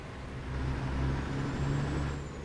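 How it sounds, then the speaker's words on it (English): A truck engine rumbles in a truck driving video game, a steady low drone that swells slightly with a faint high brake hiss trailing above it, with no talk. "I like this, have the sounds of the truck. I think it makes it more realistic."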